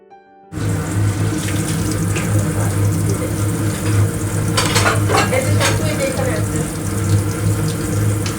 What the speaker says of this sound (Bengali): এই যে পিঠাগুলো অল্প তেলে দিয়ে দিচ্ছে তেলটা অবশ্যই গরম হতে হবে